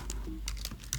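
A password is typed on a computer keyboard in a quick run of about five crisp key clicks over one second, close and fairly quiet.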